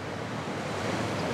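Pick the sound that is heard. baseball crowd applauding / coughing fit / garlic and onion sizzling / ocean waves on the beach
ocean waves on the beach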